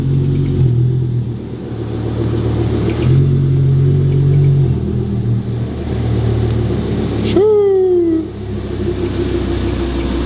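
An Audi R8 V10 engine drones and rumbles steadily from inside while driving, with a few gear changes and one sharp rising rev, loud and close with no speech.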